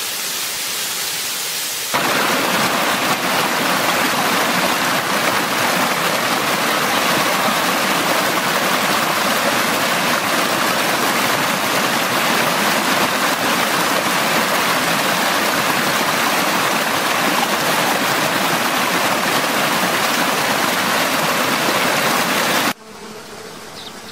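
Small waterfall splashing in a constant, loud, broadband rush of falling water that starts abruptly and runs unbroken for over twenty seconds before cutting away to quieter flow.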